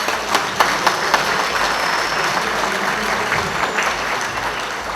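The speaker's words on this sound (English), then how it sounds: "a big round of applause for AREC and you all" Applause from a gala audience fills the hall, dense steady clapping from a large crowd at moderate distance, continuous throughout without speech.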